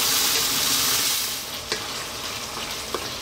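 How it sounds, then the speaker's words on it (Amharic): Tuna and tomato spaghetti sauce fries in a pan with a steady, close hiss of sizzling, broken by a few brief clinks and stirring knocks near the end. "ይኸውላችሁ እየተጠበሰ እዚህ ጋር ደርሷል"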